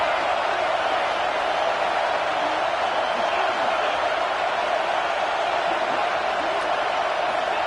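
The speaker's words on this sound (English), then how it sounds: "The crowd getting behind this defense as they try to get a stop in the red zone." Stadium crowd roaring steadily in an NCAA college football video game as fans rally behind the defense in the red zone, a dense continuous wash of cheering with no pauses.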